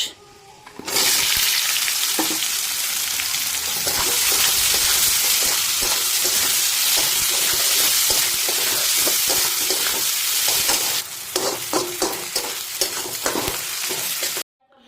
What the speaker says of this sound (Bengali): তারপরে এর সাথে দিয়ে দেবো কেটে রাখা পেঁয়াজ